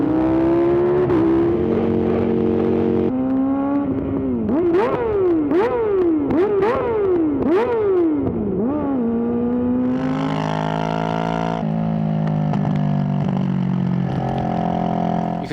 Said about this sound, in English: capturing perfect, crisp, clear audio of their engine